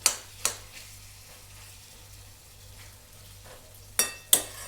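Vegetable curry with coconut, ginger-garlic and sambar masala paste sizzling softly in oil, a faint steady fry broken by a few sharp scraping stirs of a spoon near the start and end.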